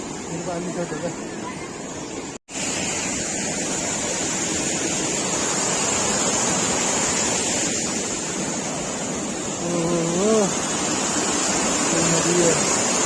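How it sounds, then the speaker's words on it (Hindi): Steady broadband rush of a river flowing at the Ban Ganga gate on the Vaishno Devi pilgrimage route near Katra, loud and continuous throughout, with a brief dropout and people talking faintly over it. "नदी है।"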